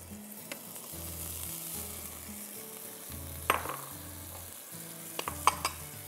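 Chicken for Kung Pao chicken stir-frying over high heat, a faint steady sizzle with a few sharp utensil clinks and scrapes, under a soft low background tone.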